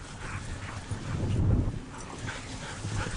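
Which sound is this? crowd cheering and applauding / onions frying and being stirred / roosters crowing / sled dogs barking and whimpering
sled dogs barking and whimpering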